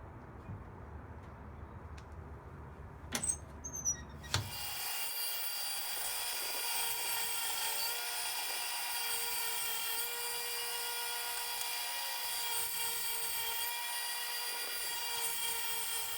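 A saw whines into a wooden piece being cut for a beer flight after some quiet handling and a few clicks, then holds a steady, high cutting tone for several seconds.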